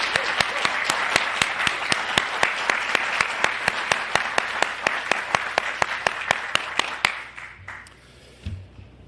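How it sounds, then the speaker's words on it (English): An audience applauds Kevin Corbett of New Jersey Transit at a rail facility groundbreaking, a steady burst of dense clapping with sharp individual claps standing out, fading out near the end. "let's please give Kevin Corbett a big round of applause for everything that he's done for New Jersey Transit"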